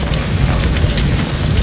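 Artillery fire in the Civil War strategy game Ultimate General: Civil War, a dense continuous rumble of booming blasts, loud and unbroken for a short stretch.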